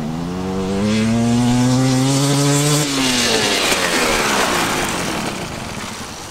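A KTM TX300 two-stroke dirt bike engine, set up for altitude with Mikuni jetting, revs hard and loud in fourth gear, pitch climbing steadily then cutting off abruptly, followed by a fading, broadband coast-down.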